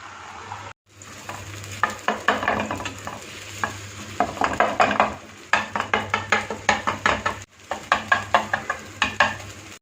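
Egg mixture sizzles in hot cooking oil in a pan, a close steady frying hiss punctuated by rhythmic bursts of spatula scraping and stirring, pausing briefly twice.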